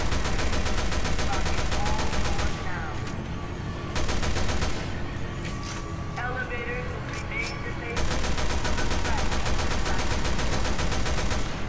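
Gunfire in Resident Evil Revelations 2: sustained automatic bursts, loud and close, broken by short pauses where someone talks over quieter game sound.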